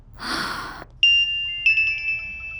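A phone rings with a few tonal electronic beeps after a brief breathy rush of noise, clear and close.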